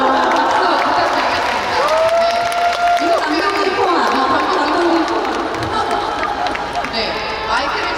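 A crowd at an outdoor festival stage claps and cheers during an open talk event, the applause spread out and steady beneath an amplified voice speaking over it.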